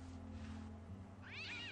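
A cat in the point-and-click video game Day of the Tentacle gives a single drawn-out meow near the end, heard clearly over a low steady game hum.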